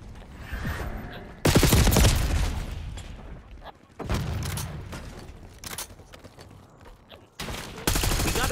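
Call of Duty gunfire crackles in heavy bursts of rapid automatic fire, loud and close, separated by quieter stretches of distant shots and battlefield noise.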